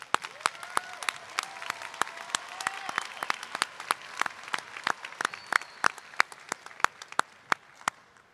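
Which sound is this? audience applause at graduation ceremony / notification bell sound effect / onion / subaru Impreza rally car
audience applause at graduation ceremony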